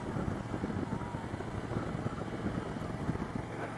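A Harley Davidson Ultra Classic with over 200,000 km on it cruises along a coastal road, its engine a steady low rumble blended with rushing wind, constant and fairly subdued.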